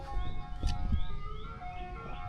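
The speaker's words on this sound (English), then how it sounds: "God dang ice cream truck going by" An ice cream truck passing by, its tinny melody chiming faintly in the background over low ambient rumble, with a few soft knocks nearby.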